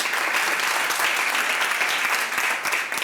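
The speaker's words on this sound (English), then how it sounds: "Another round of applause for Thandi." A steady round of applause from the audience at a G-Sport women's sports Hall of Fame ceremony, dense and continuous clapping throughout.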